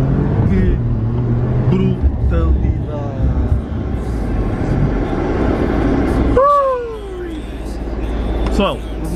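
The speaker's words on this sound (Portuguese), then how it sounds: "Ai, o poder de travagem deste carro e mudança de direção." Alfa Romeo Giulia Quadrifoglio braking hard and changing direction, a steady engine and road drone inside the car with a sweeping tire or engine tone near the end, under an excited passenger talking loudly throughout.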